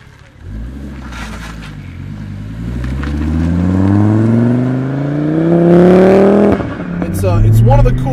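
Modified Volvo S60 T5 with a manual gearbox accelerating under boost, the turbo engine note climbing steadily in pitch and loudness before a gear change and renewed pull, with people talking inside the car.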